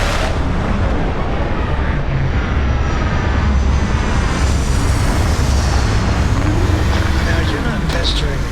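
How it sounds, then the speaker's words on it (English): Spaceship retro rockets fire during a landing in the video game Starfield, a loud, steady roar with heavy low rumble lasting throughout, the thrust holding without a break. "Retro's firing."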